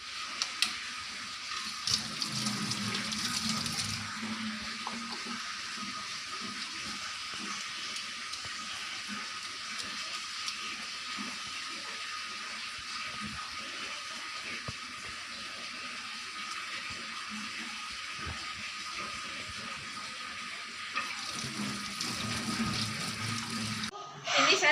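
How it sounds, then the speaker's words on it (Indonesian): Hands are washed under a running tap before a patient examination, a steady hiss of water into a sink lasting throughout, with brief handling noises at the start and end. "saya izin untuk mencuci tangan terlebih dahulu"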